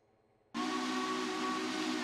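A Heiko long bell three-chime steam whistle from the Railroader game bursts on abruptly and holds as one loud, steady, breathy chord with a strong hiss, heard alone.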